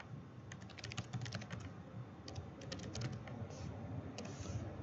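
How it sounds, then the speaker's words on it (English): Steady typing on a computer keyboard in a classroom lab, clusters of quick key clicks in irregular bursts over a constant low room hum, moderately close. "So I'm going to type the exact same thing."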